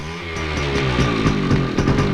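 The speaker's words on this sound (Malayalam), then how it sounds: "ബൈക്ക്." A motorbike engine running close by, a buzzy droning note with rhythmic throttle pulses rising and falling over two seconds.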